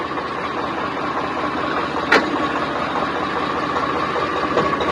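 A tractor's engine runs steadily at a low idle during wheat harvesting near the Indo-Pak border as it is positioned behind a second trolley. A close, continuous rumble with one sharp click partway through.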